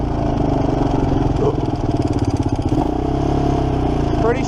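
1987 Kawasaki Mojave 250 ATV engine running unevenly after a carburetor job, a loud, close, throbbing single-cylinder idle with a ragged, pulsing rhythm and faint mechanical rattle.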